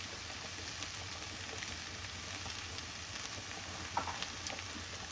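Drumstick pieces and potatoes frying in a pan with sugar, a continuous soft sizzle with light crackling and a few sharper pops near the end, no one speaking.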